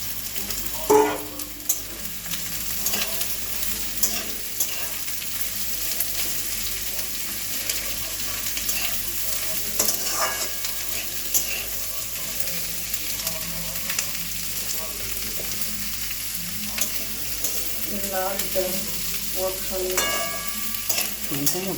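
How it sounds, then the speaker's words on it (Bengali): Pumpkin leaf fritters sizzle and bubble in hot oil, a steady hiss with scattered spatters and occasional clinks of stirring, moderately loud and continuous throughout. "তেলটা গরম হয়ে গেছে, এখন আমরা তেলে দিয়ে দেবো।"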